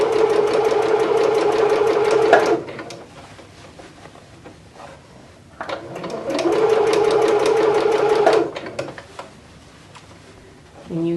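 A sewing machine stitching an inset sleeve around a curved armhole, running in two steady bursts of a few seconds each with pauses between as the fabric is repositioned.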